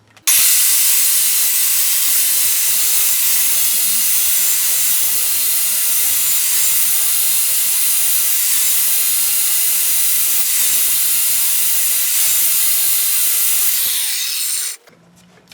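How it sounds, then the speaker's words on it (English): Angle grinder with a flap wheel grinding a garden tractor mower blade clamped in a vise, a loud, continuous high-pitched grinding hiss that runs steadily for about fourteen seconds before cutting off. "I've got my flap wheel here on a grinder"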